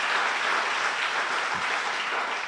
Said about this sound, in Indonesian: Beri tepuk tangan lagi untuk Tuhan kita.